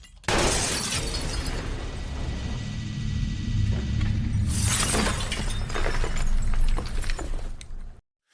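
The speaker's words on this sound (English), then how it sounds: "Norman fires a shot, shattering the glass beneath him." A glass skylight shatters beneath a falling man in a loud, sustained crash. A second burst of breaking glass and scattering shards follows midway, and then the sound stops abruptly.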